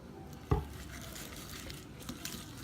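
Shredded coleslaw being stirred together with Marzetti dressing in a bowl, a soft wet scraping and mixing with one sharp knock of the spoon against the bowl early on, close and quiet.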